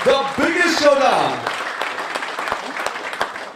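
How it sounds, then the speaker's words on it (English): A crowd claps in steady applause while a voice talks over the start, then the clapping carries on alone, lively and close. "Give yourself a big round of applause as we begin the biggest showdown."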